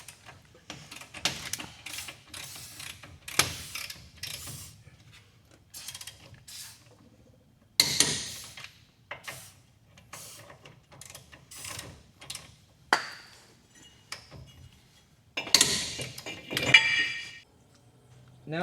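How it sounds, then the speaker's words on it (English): Brake caliper bolts being torqued to spec during a wheel light install, with bursts of ratcheting wrench clicks and metallic clinks separated by pauses, close and moderately loud. "Now we're just going to torque these down to spec."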